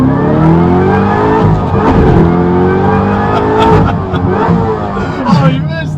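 A supercharged Corvette accelerates hard from inside the cabin, engine loud and rising in pitch through the gears with a stumble at a missed shift into third, people talking over the roar.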